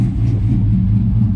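A Ram truck's Hemi V8 idles close by, a deep, steady low rumble with a slightly lumpy pulse and no voices.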